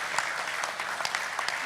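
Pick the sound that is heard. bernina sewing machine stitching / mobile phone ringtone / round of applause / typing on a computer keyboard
round of applause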